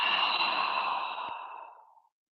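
A single long, breathy exhale during a Pilates band exercise for the shoulders. It is close and airy, fades steadily over about two seconds and ends in silence.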